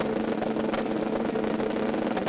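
Super street bikes launch down a drag strip at a European finals event, a steady, loud, dense engine roar sustained without pause and slightly distant.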